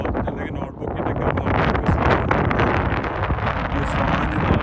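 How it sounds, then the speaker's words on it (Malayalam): Strong wind at Stonehenge buffets the microphone in a steady, loud roar that holds for several seconds with little letup, dominating the open outdoor setting. "ഈ സ്റ്റോണേജ് എന്ന് പറയുന്ന നല്ല കാറ്റുണ്ട്"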